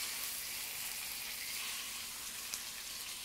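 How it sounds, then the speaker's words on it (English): Salmon fillet searing skin-side in a hot pan gives a steady, close sizzle with an even hiss and no pauses. "we're going to flip the salmon over and we're going to cook it for 20 seconds"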